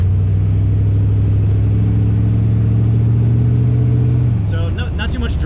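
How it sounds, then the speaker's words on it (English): Land Rover Defender 110 fitted with a 450HP LS crate engine and dual-muffler exhaust, driving on the road: a steady, deep low engine drone and rumble that holds even, then eases off near the end as other noise rises. "So not too much drone or anything with this exhaust."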